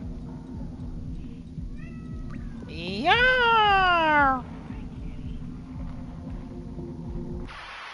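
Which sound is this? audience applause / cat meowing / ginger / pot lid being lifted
cat meowing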